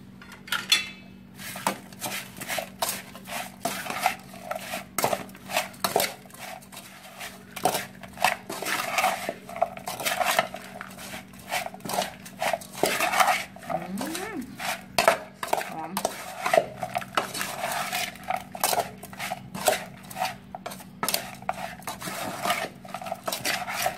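Shellfish and mango salad stirred and tossed in a bowl, rapid repeated clinks and knocks of a utensil against the bowl, busy and close, with someone speaking briefly in between.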